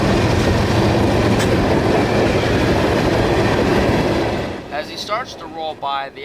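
Freight train Q452, led by a block of sulfur empties, rolls past close by with loud rumbling and clattering wheels that fade toward the end, where birdsong and faint voices emerge.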